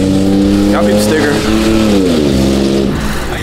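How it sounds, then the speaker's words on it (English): A Nissan GT-R engine runs and revs at a crowded car meet, loud and close, with the pitch rising and falling through several revs while people talk over it. "He got his car back running."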